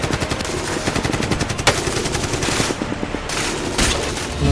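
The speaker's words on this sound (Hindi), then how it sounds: "अचानक एक और ब्रेस्ट फायर हुआ है जो उनको लगा।" Loud, sustained automatic gunfire rattles on without pause as a rapid burst of machine-gun shots in a Pakistani television drama.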